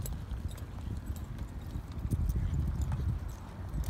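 Hoofbeats from a horse cantering during barrel racing training, a steady rolling rhythm of dull thuds close by, continuous through the clip over low rumbling background noise.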